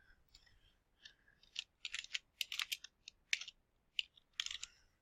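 Quick bursts of keystrokes on a computer keyboard as a title is typed in, irregular clusters of close, crisp clicks with short pauses between them.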